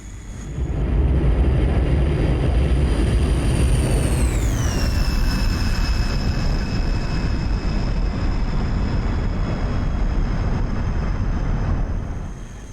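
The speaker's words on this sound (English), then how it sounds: "And we're still flying with the first flight of Syrian MiG-21s." A Syrian MiG-21 jet in flight in DCS World, a loud continuous engine roar with a high turbine whine that slides downward partway through, then holds steady.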